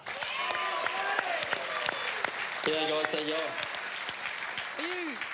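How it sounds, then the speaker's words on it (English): Studio audience applause and cheering on a live football television show run steadily throughout, with a man greeting the room over the clapping. "Give him a big round of applause"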